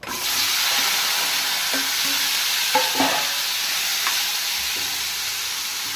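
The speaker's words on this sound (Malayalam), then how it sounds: "ഇനി നമുക്ക് കരിവേപ്പില ഇടാം, ഉണക്കമുളക് ഇടാം." Curry leaves and dried red chillies fry in hot oil as a tempering for a plantain and green gram thoran, giving a steady, close, even sizzle with a few brief pops near the middle.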